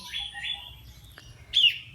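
Short orange-headed thrush chirps ring out clearly, a sustained chirping phrase early on and a sharper burst near the end, with a low rumble of background noise beneath.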